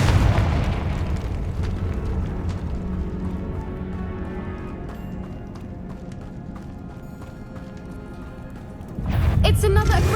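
Confringo explosive spell in Hogwarts Legacy, loud booming blasts over busy fighting noise that fade to a lower rumble before a sudden sharp burst near the end, with voices heard throughout.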